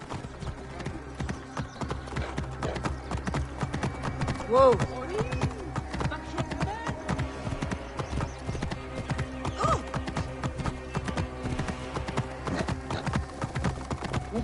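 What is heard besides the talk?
horse hooves clip-clop in video game Assassin's Creed Origins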